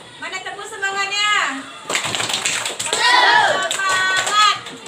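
Schoolchildren in a classroom chanting together and clapping in rhythm, children's voices in sing-song unison with bursts of claps between the phrases.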